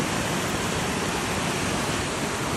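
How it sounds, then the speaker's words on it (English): Creek water trickles steadily over a 3-foot wall at low, resting flow, a continuous close rushing wash with no breaks and no voices. "The water is barely trickling over this."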